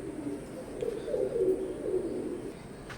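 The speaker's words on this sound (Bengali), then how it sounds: "স্ক্রিনে এখন যে কবুতর জোড়া দেখতে পাচ্ছেন" Soft, low coos from a pair of Teddy pigeons rise and fall in a steady murmur, fairly close, with no talking.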